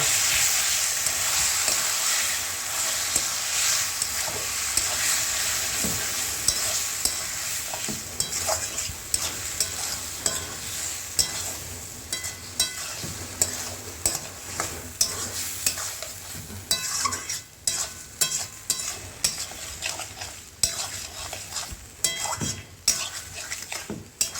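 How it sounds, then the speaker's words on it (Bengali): Mutton curry with freshly added spices is stirred in a pot, a steady frying sizzle running underneath frequent scraping and clinking strokes of a utensil against the pan, growing more rhythmic toward the end. "তারপর দেবো মশলা। একটু ভালোভাবে নেড়ে দেবো।"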